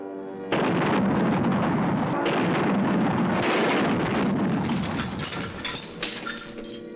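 Anti-aircraft shells burst in a loud, continuous barrage of heavy booms and rumbling fire. Metallic clinks and rattles rise toward the end, and no voices are heard.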